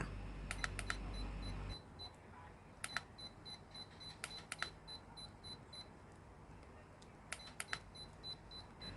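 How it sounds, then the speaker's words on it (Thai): Short high-pitched electronic beeps from a Deerma cordless blender's safety warning, triggered by a removed or loosely fitted jar, sound in small clusters against a quiet background hum, repeating several times. "เมื่อเราถอดแก้วหรือใส่แก้วไม่สนิทเขาจะมีเสียงเตือน"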